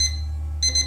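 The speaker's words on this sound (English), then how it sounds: "Oh no, that's the alarm clock." An alarm clock rings in a video game, a short burst of bright, rapid electronic beeping that starts abruptly after a low steady hum.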